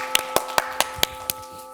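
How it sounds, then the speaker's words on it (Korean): A studio audience welcomes an asset-management lecturer with a handful of sharp hand claps, about six distinct slaps spaced unevenly over under two seconds against a faint steady hum. "이영주 쌤 박수로 모시겠습니다"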